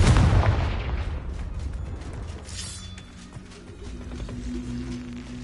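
A Confringo blasting spell from Hogwarts Legacy erupts in a loud, deep explosive boom at the start, then decays into a rumbling tail with lingering crackles and a faint tonal hum.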